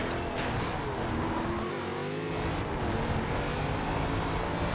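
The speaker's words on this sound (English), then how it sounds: "The car sounds good." A race car engine in Forza Horizon 2 drones at a steady pitch while driving, with a brief shift in tone midway and no talk over it.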